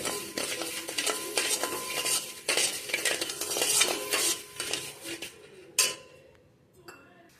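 A spoon stirs sugar syrup in a pan on the stove for rava ladoo, giving repeated close metallic scraping and clinking strokes in an uneven rhythm over a faint sizzle, ending in a few sharp clinks.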